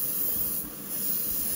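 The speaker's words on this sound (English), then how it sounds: "Spray the whole thing black, get as much coated as we can." Spray paint hisses from a can while coating a Revell 1/72 Type IX C U-boat model black, a close, steady airy spray with a brief dip in the middle, no talk.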